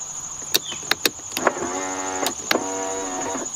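A power window motor in a Lexus SC300 whirs as the glass travels down, a steady mechanical drone with a few sharp clicks and knocks at the start, close and clear with no talking.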